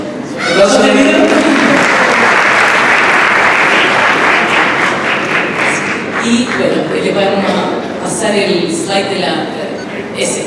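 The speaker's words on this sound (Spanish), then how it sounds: "Sí, un aplauso." A theatre audience at a Nerd Nite science-talk event applauds the technical crew, with loud, dense clapping that thins out toward the end while voices and cheers mix in.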